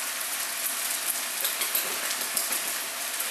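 Soy sauce hits a hot pan of frying egg fried rice with meat and shrimp, setting off a loud, dense, continuous sizzle with no voices.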